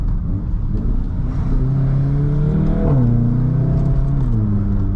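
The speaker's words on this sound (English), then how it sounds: "So you can hear the intake up front and you got that nice rumble from the exhaust." A steady, deep engine rumble from a 400hp VW Golf R, with intake and exhaust droning loudly from inside the car and rising and falling in pitch as the revs shift slightly, with no talk.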